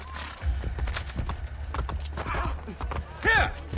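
Rhythmic hoofbeats clop along steadily beneath a voice in Assassin's Creed: Brotherhood, with a short horse whinny rising near the end.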